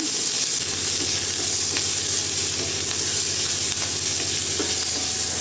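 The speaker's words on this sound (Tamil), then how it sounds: "வெங்காயம் பச்சை மிளகாய் கருவேப்பிலையும் போட்டு நல்லா வதக்கி விட்டுருங்க" Onions, green chillies and curry leaves sauté in a pan with a steady sizzle and frying hiss, stirred with intermittent scraping, loud and close for the whole stretch.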